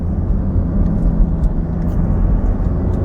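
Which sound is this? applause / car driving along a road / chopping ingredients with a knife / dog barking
car driving along a road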